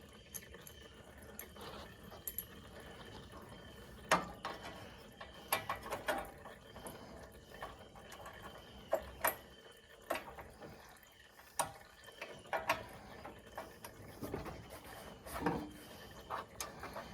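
Metal socket ratchet clicking and rasping while working an NGK BPR4ES spark plug loose on a Gravely HDZT 52 zero-turn mower with a Kawasaki engine, irregular sharp ticks and scraping strokes close by with no talking.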